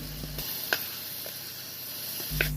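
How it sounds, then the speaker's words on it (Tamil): Ginger garlic paste sautéing in a pan for vegetable biryani, a soft steady sizzle with a few faint stirring scrapes, quiet and close, no voices. "இஞ்சி பூண்டு விழுதை நல்லா பச்சை வாசனை போகிற வரைக்கும் வதக்கி விட்டுக்கோங்க"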